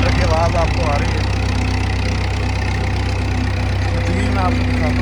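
Tractor engine running in a field while a machine sows maize seed: a loud, steady low rumble with a constant idling throb, close by and unbroken, with faint bits of background voices.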